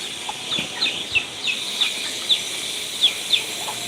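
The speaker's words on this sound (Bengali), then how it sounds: "ভাবি আপনার এখানে মুরগি কয়টা আছে অগণিত অগণিত মুরগি" Chickens on a farm house give short, high clucks and chirps at a steady scatter, moderately close, over a soft background hiss with no talking.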